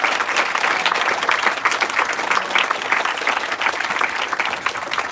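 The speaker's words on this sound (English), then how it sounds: "please stand up and let's clap for them" An audience at the RoboSub 2023 awards ceremony claps continuously throughout, a dense, steady applause from a sizeable crowd with no talk over it.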